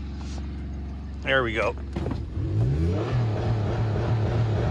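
A high-mileage Hyundai Santa Fe diesel engine idles with a low rumble, then revs and climbs in pitch as the throttle opens, with people talking and calling out over it.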